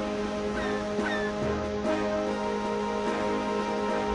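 Seagulls in the video game Zelda Phantom Hourglass give a few short calls over a steady hum of game music and sea ambience, moderately loud, with no voices.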